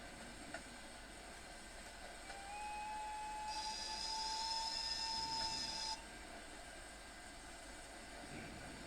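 A Krocodil electric locomotive in Train Sim World 5 on the Mittenwaldbahn rolls into a station with a steady low rumble, and a long two-tone whistle or horn sounds in the middle of the approach.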